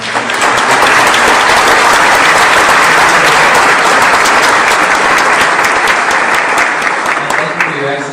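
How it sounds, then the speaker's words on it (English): Sustained audience applause at the close of a panel discussion on artificial intelligence and ethics, loud and steady throughout, a dense wash of many hands clapping together with no voices standing out. "Let's all give applause to everyone involved."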